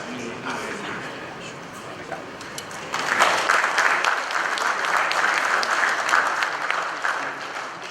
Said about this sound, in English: that's why that applause is going on